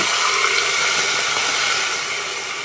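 Water gushes steadily into a pot of washed rice, a loud continuous rushing pour without pauses.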